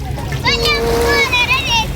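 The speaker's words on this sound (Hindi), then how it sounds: "ये पानी फेंक रहे हैं" Children splash water at Palawan Beach on Sentosa Island, Singapore, with close splashes mixed with excited high children's voices and squeals throughout.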